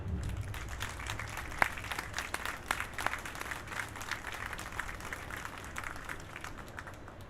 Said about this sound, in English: Why don't we give a round of applause for the team and for Katrina and for the governor?